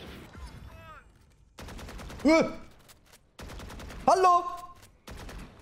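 Rapid continuous gunfire from a weapon in a tactical first-person shooter game, rattling in dense bursts with short gaps, loud and close, with a voice calling out briefly over it.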